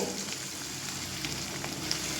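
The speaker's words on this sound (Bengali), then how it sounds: "দেখুন প্রথমে আমি চার থেকে পাঁচটা দিয়ে ভেজে নেব" Banana flower koftas frying in a pan of oil, a soft steady sizzle with scattered small pops, close but fairly quiet, no voices.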